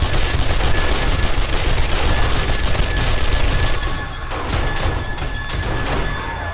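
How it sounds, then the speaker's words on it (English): SMG turrets in 7 Days to Die fire continuously during a horde night, heard as a loud, dense, unbroken rattle of rapid automatic gunfire that eases slightly toward the end. "SMG turrets are also going off because of anti-air stuff"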